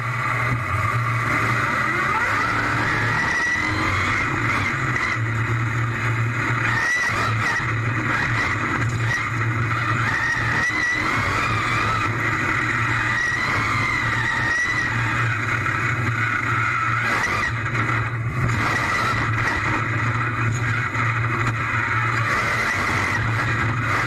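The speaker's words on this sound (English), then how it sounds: "It was really cool seeing inside a real monster truck while it drives." A monster truck engine roars steadily for over twenty seconds from inside the cab as it drives over bumpy ground, with rattles and thumps and a sustained loud rumble throughout.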